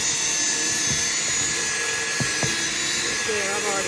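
A power drill with a scrub brush works the carpet of a 30-year-old truck, a steady high whine running throughout with faint scrubbing thuds underneath, close and continuous.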